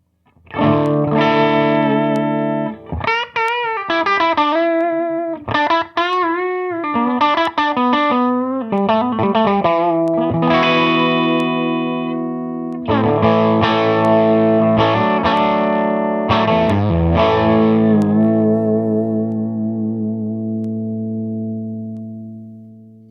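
Electric guitar through a Lil King S amp, played as loud distorted chords and sustained riffs with short gaps, ringing out and fading at the end, no talking.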